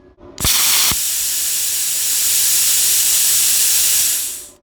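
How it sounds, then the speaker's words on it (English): A TOOLIOM TL-50C plasma torch keeps blowing post-flow air after the trigger is released, a loud steady hiss that cuts in after a couple of sharp clicks and holds for about four seconds before tapering off. "When you let go of the trigger, it keeps flowing air to help cool the tip."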